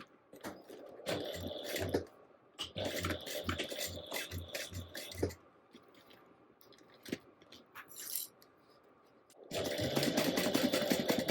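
A sewing machine runs in several short rhythmic bursts while sewing the corner seam of a fabric bag, with pauses and handling in between, ending in a longer continuous run.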